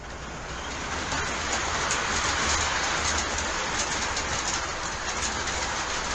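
A model train rumbles steadily along the track, with a continuous clattering hum and faint rhythmic clicks, no talking.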